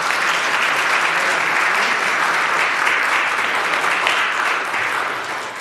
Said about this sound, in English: I want to give a round of applause for Father Jack